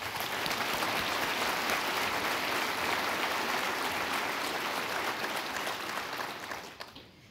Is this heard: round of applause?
yes